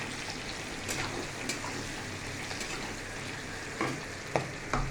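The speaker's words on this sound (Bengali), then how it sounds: "দেন ক্যাপসিকাম, পেঁয়াজ, টমেটো ফ্রাই করা চলছে।" Capsicum, onion and tomato sizzle steadily in a pan for chilli chicken, a close, constant frying hiss with occasional stirring scrapes and small pops.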